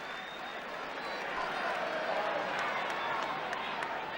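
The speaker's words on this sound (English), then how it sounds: "the magnificent save by Alex Stepney, which drew applause from both Manchester United and the Arsenal players" Crowd applause at an Arsenal v Manchester United football match, a broad clapping roar that swells midway, with a commentator talking over it.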